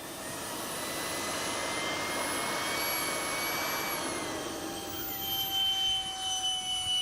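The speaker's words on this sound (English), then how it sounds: "And you'll hear just a high-pitched whine." An electric radio-control jet gives a continuous high-pitched whine with shifting tonal lines as it flies past at an air show. The sound is fairly faint and distant, swelling slightly toward the end, with no talk.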